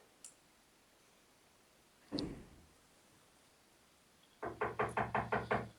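A quick series of about seven sharp knocks on a door, loud and close, comes near the end after a soft thud and a quiet stretch.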